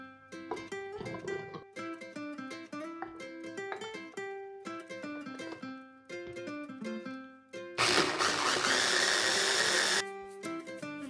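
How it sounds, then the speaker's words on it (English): A food processor whirs loudly for about two seconds, mixing mushroom stems, parsley, shallots, salt and pepper, a harsh buzzing burst over steady plucked background music. "I place the stem, the parsley, shallots, salt, pepper in the food processor and mix them all together."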